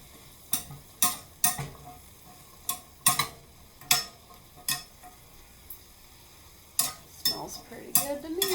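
Chicken and brown sugar cooking in a pan, stirred with a utensil in a series of sharp scraping and clinking strokes over a soft sizzle, close and distinct.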